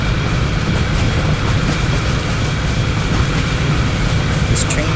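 A train in a train-driving video game runs with a loud, steady rumble of wheels and motor, unbroken throughout.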